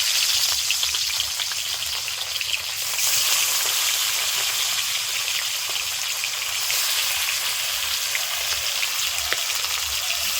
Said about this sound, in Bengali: এই তাহলে বাদ বাকি মাছগুলো ভেজে নেব